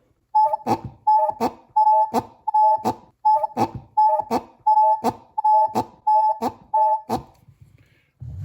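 A small mechanical fuel pump from a 1955 Ford Thunderbird Y-block, rebuilt and running on a bench, gives about ten evenly spaced buzzing pulses, each a short whining clack, then stops.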